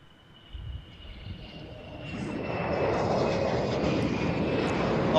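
Etihad airliner's jet engines at Amsterdam Schiphol Airport, a low roar that swells steadily from quiet to a loud, sustained rumble with a thin high whine, no talking.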